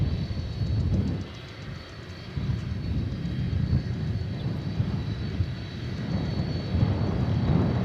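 A jet airliner pushes back at DFW Airport, its engines a steady low rumble and whine with a faint high tone, heard from a distance.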